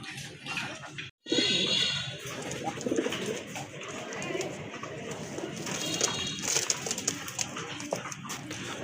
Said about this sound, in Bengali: আরেক জোড়া কবুতর দেখতে পাচ্ছেন মাশাল্লাহ, খুবই সুন্দর মার্কিং সম্পন্ন কবুতর